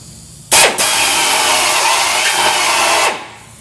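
A power drill fitted with a small step bit cuts a hole while installing TeraFlex rock sliders on a vehicle, a loud close whine starting abruptly and holding steady for about two and a half seconds before stopping.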